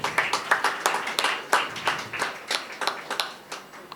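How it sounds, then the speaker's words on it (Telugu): An audience clapping in a church at a Christmas celebration, a short burst of scattered applause from a modest crowd, fairly close and without talk. "క్లాప్స్ కొడదామా అందరూ?"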